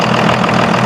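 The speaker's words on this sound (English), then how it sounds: "It's just an engine and a turbocharger and exhaust running straight out the back. And it's noisy as hell." A loud diesel engine with a turbocharger and a straight exhaust out the back runs steadily, a dense continuous rumble with a faint knocking texture and no pauses.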